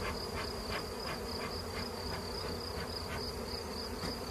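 Honeybees buzz continuously and close by around honey-filled hive supers, a steady droning hum with faint pulsing swells, no speech.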